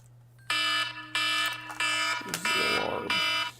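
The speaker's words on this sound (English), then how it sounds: "There's the alarm." An electronic alarm on a game kit being built sounds in five loud, evenly spaced tonal beeps over a low steady hum, with a brief clatter between the later beeps.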